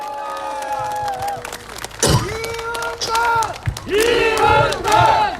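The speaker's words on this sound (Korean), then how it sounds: "박수 드려주세요" A crowd at a Korean election campaign rally cheers and claps loudly, with shouted chants and a voice over a loudspeaker rising and falling above the noise in bursts.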